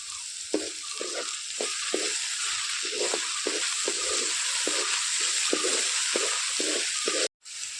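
Onions fry in a pan, a steady close hiss broken by rhythmic scraping strokes of stirring, with a brief cut to silence near the end.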